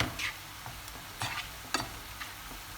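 Chicken, onion and mushroom filling browns in a pan with parsley: a soft, continuous sizzle broken by several short scraping stirs and utensil taps at irregular intervals, fairly quiet throughout.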